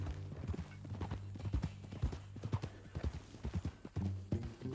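Horse hooves clip-clop in the game Red Dead Redemption 2 in a steady, uneven rhythm, fairly close, with a low background hum beneath the hoofbeats.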